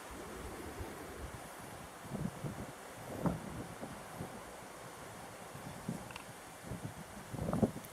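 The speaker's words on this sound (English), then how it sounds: "It's a windy day, so the table's gonna be a rocking." Wind buffets outdoors in uneven gusts, rumbling against the microphone with occasional rustling, no voices present.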